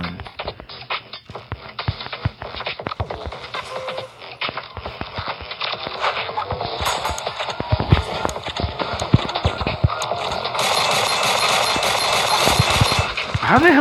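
Horse hooves clip-clop rapidly in Pixel Gun 3D, a dense stream of close hoofbeats that grows louder and busier over time, mixed with game effects and bursts of noise.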